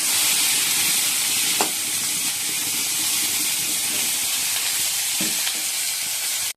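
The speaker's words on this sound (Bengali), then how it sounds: "বেগুন দিয়ে লাল লাল করে ভেজে নেব।" Eggplant (brinjal) pieces fry in hot oil, giving a steady, loud, close sizzle with a couple of faint clinks from stirring. No one speaks.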